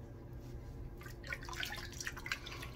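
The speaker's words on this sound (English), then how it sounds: "All right, let's rinse off." Water runs and splashes faintly as a face is rinsed after a shave, with soft drips and trickles at a sink, close and quiet with no talk.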